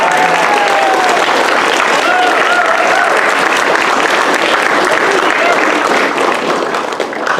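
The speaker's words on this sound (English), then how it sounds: "big round of applause for our veterans" A school assembly gives veterans a steady, dense round of applause, the whole crowd clapping at once with some voices underneath.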